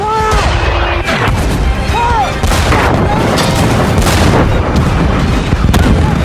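Loud World War II tank battle from the 2014 war film Fury: dense overlapping cannon booms, explosions and gunfire fill the whole stretch, with faint shouted voices underneath.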